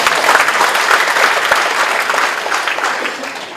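Audience applause for Pak Asman Abnur at a comedy event, a dense burst of crowd clapping that holds steady and gently tapers over a few seconds.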